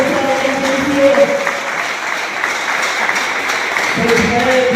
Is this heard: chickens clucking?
no